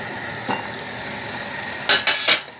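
Salted eggplant slices sizzle steadily in hot oil for a shakshuka, with a few louder bursts of stirring or turning near the end.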